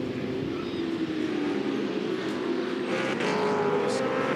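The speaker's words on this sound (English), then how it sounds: "His car currently sounding like a sprint car. It's obviously damaged the exhaust in that accident." A V8 touring car at Winton Raceway in the 2003 Supercars Championship passes with a damaged exhaust, giving a harsh, raspy sprint-car-like engine roar that stays loud and continuous throughout.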